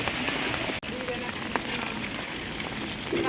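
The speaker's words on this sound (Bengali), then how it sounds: "এ বৃষ্টি জোরে আসলো" Heavy rain pours down outdoors during a walk to a wedding house, a steady, dense hiss of drops with scattered louder patters and a faint voice underneath.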